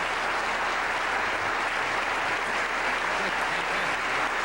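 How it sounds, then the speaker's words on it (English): Audience applause for a volunteer at the Think Helsinki event with James Randi, a dense steady wash of clapping from a large crowd lasting throughout, fairly loud and without talk. "I think you deserve a round of applause for that."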